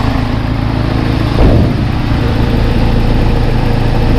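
A first-generation Toyota 4Runner engine with a broken motor mount idles steadily and close, a low continuous rumble with one brief thump partway through and no talking.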